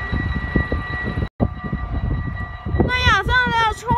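A train runs through curves at Roermond with a low rumble and rattle of wheels, long tonal wheel squeal on the bends, and a rising, wavering screech near the end.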